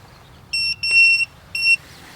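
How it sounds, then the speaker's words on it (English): A tire pressure monitoring display on a Ford F-450 dually chirps with three short electronic beeps, the middle one longer. The beeps are clear and close against a quiet background. "One beep."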